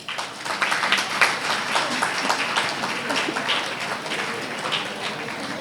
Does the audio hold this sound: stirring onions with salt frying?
no